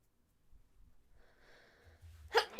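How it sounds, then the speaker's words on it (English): A single sneeze bursts out near the end, preceded by a faint breathy intake, close and fairly quiet otherwise. "Oh, I'm gonna sneeze."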